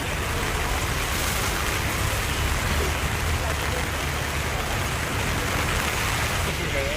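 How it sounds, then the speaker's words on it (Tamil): Steady moderate rain with wind in a town in Tamil Nadu, a dense even hiss of falling water and gusts that holds constant and fairly loud throughout, with no voices. "காற்றுடன் கூடிய மிதமான மழையும் ஒரு சில பகுதிகளில் சாரல் மழையாகவும் பெய்தது."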